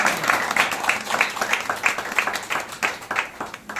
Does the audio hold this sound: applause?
yes